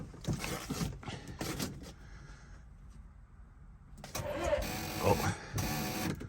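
A Hisun ATV engine cranks on a cold start at -40 with full choke, giving two bursts of labored, whirring mechanical turning separated by a quiet gap, with people talking nearby.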